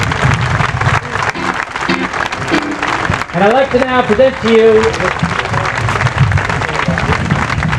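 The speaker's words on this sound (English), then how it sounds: "let's give another round of applause" An audience claps and applauds loudly at a tribute concert, the clapping continuing as someone speaks over it through a microphone.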